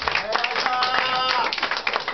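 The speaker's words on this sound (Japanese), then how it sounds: "わび、大きな拍手" Audience applause at a blues night concert in Hiroshima, sustained dense clapping from a crowd lasting the whole stretch, with a voice talking over it.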